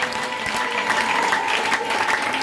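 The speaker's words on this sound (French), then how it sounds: "Est-ce que tu peux l'acclamer encore ce matin?" A church congregation cheering and applauding during a French-language service, dense sustained clapping close and loud with a few voices mixed in.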